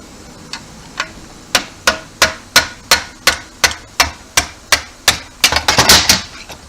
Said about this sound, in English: drive the starter ratchet pin in a little bit